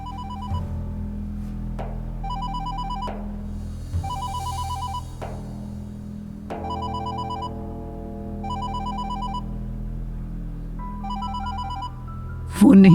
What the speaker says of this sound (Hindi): फोन नहीं उठाओगी?